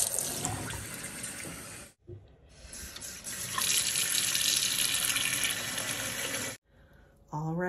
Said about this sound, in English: we're just going to have to do this with some tap water, cold tap water.